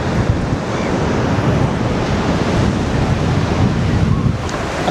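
Extreme wind roars over heavy surf on the Benidorm seafront, a loud, constant broadband rush of crashing waves and gusts buffeting the microphone, with no pause throughout.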